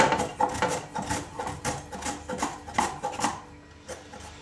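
A carrot is grated into thin strips in a steady rhythm of rasping strokes, about three per second, close up, stopping near the end.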